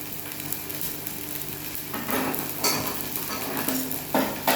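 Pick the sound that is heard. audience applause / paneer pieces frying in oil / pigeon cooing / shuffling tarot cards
paneer pieces frying in oil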